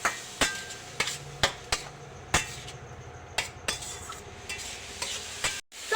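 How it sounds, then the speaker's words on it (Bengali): A spatula stirs shredded cabbage and carrots in a pan for veg momo filling, knocking against the pan in a steady series of sharp clacks over a soft, continuous sizzle. "নাড়াচাড়া করে দিচ্ছি।"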